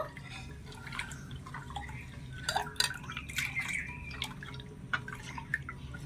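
Salt being mixed into dosa batter in a bowl gives soft wet squelches and drips with occasional light clinks of the utensil, quiet and intermittent over a low steady background hum.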